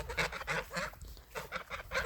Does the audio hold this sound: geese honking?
yes